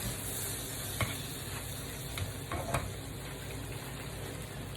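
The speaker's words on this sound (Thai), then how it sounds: "ปลาที่คลุกแป้งและเกลือ และพริกไทยไว้เมื่อกี้ ลงไปทอดเลยจ้ะ" Steady, close sizzling of fish coated in flour, salt and pepper frying in hot oil in a pan, a continuous crackling hiss with a few small pops and knocks.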